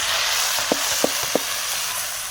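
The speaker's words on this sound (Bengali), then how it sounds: "এখন এই যে তেল গরম করছি, শুধু ঢাইলা দিবেন।" Chopped okra, green chili and onion going into hot oil produce a loud, broad sizzle that runs the whole time, with a few dull knocks of the pan and spoon.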